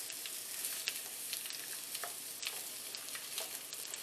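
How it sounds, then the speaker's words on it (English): Zucchini sautéing in oil in a pan gives a steady, close sizzle with scattered crackles and pops throughout, with no voices. "Zucchini in the pan."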